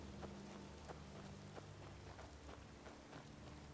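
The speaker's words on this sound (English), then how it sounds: "Seems rain's just rolled in" Soft, steady rainfall in the video game Skyrim patters on surfaces, with scattered brief drop taps and a low rumbling undertone, quiet and continuous with no voices.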